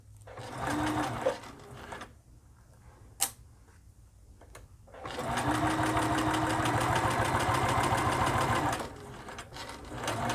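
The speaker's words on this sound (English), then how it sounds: "I'm using a 1/2 inch seam allowance, and I'm going to back stitch" A sewing machine back stitches a seam on a furry Christmas stocking with a half-inch seam allowance: a short whirring run, a quiet gap with a few clicks, then a longer steady buzz of stitching.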